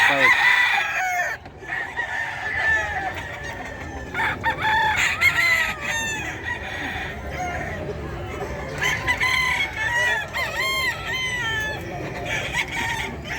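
Roosters at the Bocaue pet market crow again and again, several birds overlapping near and farther off, with clucking and a busy market murmur underneath.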